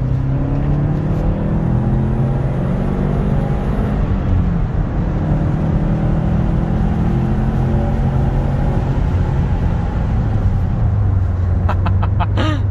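A Japanese car with a 2.5-litre boxer engine, driven in sport mode on a road test, holds a steady loud engine drone from inside the cabin, rising slightly in pitch as it accelerates, with no talking.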